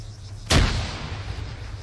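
A frag grenade going off in the ARMA 3 military game: one sharp, heavy blast with a rumbling tail that fades over a second, set against low background hum.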